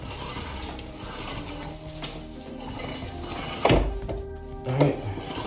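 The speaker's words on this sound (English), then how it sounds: "I'm gonna go ahead and pump this rear brake a little bit" The rear brake pedal on a Kawasaki ZX14R being pumped during a rebuild, with two sharp mechanical thunks near the end over a low hum of background noise.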